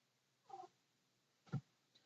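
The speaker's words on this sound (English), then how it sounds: "Now the cats want outside" Cats calling at a door to be let outside, two short meows about a second apart with a faint chirp after, quiet and alone in a still room.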